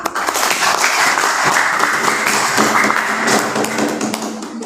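Students in a classroom applaud together after a soil acidity lesson, a dense, steady patter of clapping sustained at close range throughout with a few sharper taps standing out.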